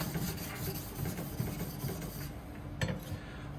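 Back side of a deba knife being sharpened on a whetstone, a steady rasping scrape with repeated strokes at close range, running throughout with a brief louder scrape near the end.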